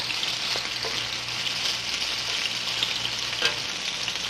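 Sliced onions and peppers fry in a pan, a continuous close sizzle with faint scrapes of stirring and a few crackles, loud and steady throughout with no talking.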